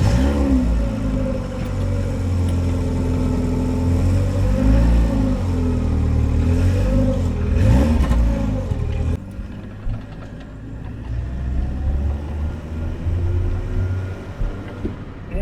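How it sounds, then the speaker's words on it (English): A Renault Clio 16V Grand Prix on the move, its engine loud and close with revs rising and falling through gear changes, then settling into a steadier lower drone. "let's take this car for a drive"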